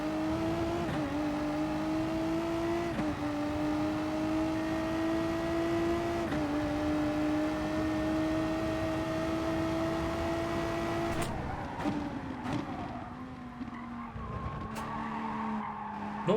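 Ram Shadow race car in Gran Turismo Sport at Laguna Seca, a loud steady engine drone holding pitch through gear changes, then tire skidding and squeal as the revs drop and climb again.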